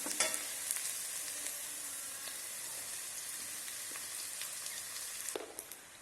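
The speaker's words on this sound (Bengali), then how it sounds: "ভালো করে ভাজার পর এখন আমি এই যে রাইসটা দিব" Basmati rice is added to a pan of fried cashews and raisins and gives a close, steady sizzle and hiss for the whole stretch, with a few soft stirring ticks near the end.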